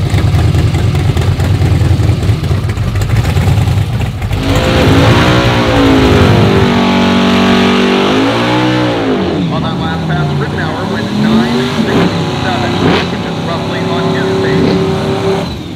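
A hot rod drag car at Byron Dragway, Illinois, during Drag Week, roars down the strip. A loud engine sweeps up in pitch through repeated gear changes and stays near and continuous throughout, with speech mixed in.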